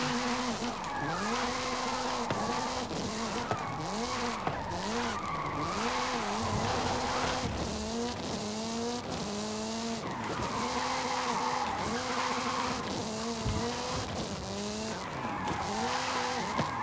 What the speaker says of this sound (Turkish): Efsane bir drift veya el freni drifti, yeteneği kazanın. Haydi biraz yanlayalım şunları.